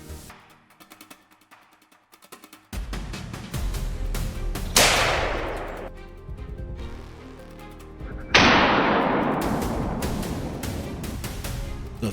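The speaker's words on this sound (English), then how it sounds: "the familiar sound of gunfire echoes from other ambush points" Loud gunshots from ambush points during a wild boar hunt crack out and echo away in long decaying tails, one after another, with a sustained rumbling reverberation between them.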